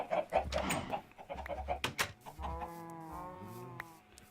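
Minecraft video game chickens cluck and squawk close by in a busy burst, overlapping calls with a few sharp clicks, trailing off toward the end.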